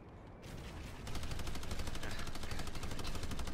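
Rapid automatic gunfire in a video game, a dense continuous burst of fast repeating shots that starts after a brief quieter moment and stays loud to the end.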